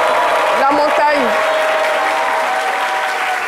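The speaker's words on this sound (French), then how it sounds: "Merci d'applaudir très fort." A studio audience on a French midday TV show claps loudly and steadily, with a brief cheer or whoop rising over the applause near the start.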